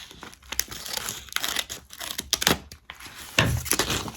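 An old plastic feed bag being cut and handled, giving close, irregular bursts of crinkling and tearing rustle with short pauses between them and a louder crackle near the end.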